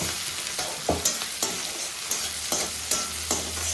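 Tomatoes and onions frying in a pan with salted fish, a steady close sizzle broken every half second or so by the scrape and clatter of a spoon stirring, with no voices.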